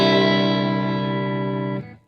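A sustained, heavily processed electric guitar chord through a Vox VT40X amp's original preset rings out loud with chorus-like shimmer and some grit, then cuts off sharply near the end.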